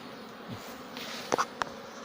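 Honey bees crowding two hive frames during a beekeeper's colony check, heard as a faint, low insect hum with a few brief, sharper buzzes near the end of a quiet moment.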